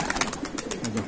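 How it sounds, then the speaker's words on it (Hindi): Several pigeons of a fine breed, kept for sale, coo in low repeated throaty murmurs close by, with soft wingbeats and brief chirps over a faint background of other birds. "देखो कबूतर, वही बहुत शानदार कबूतर है"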